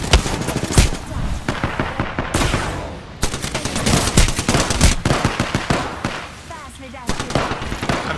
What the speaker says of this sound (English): that grenade got me through the window